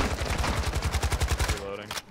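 Automatic gunfire in the Modern Warfare 2 video game rattles out in a fast, even stream of sharp shots for about a second and a half, then cuts off into quieter game noise.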